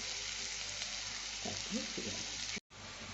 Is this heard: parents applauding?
no